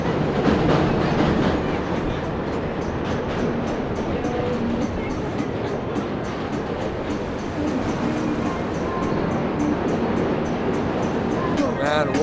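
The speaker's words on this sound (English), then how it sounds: "There's a train going over this bridge right there" A train rumbles and clatters across the Brooklyn Bridge overhead, a continuous dense roar with faint rhythmic clicking heard from below, steady throughout.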